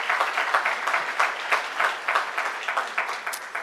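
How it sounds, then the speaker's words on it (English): Audience applause at an awards ceremony, a steady wash of many hands clapping with irregular louder bursts, fairly close and continuous with no talk over it. "Give a big round of applause"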